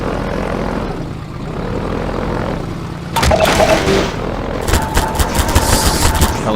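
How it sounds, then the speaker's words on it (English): A combat helicopter in the video game Half-Life 2 drones with a broad engine and rotor roar that swells partway through, mixed with rapid bursts of gunfire, loud and close, with no talking. "Helicopter."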